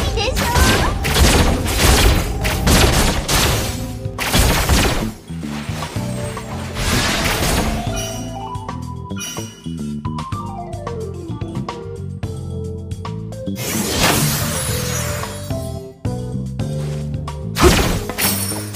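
A guardian structure crumbling in the online game Extraordinary Ones, with loud shattering crashes and heavy booms in bursts, layered over game music and announcer-style voice callouts.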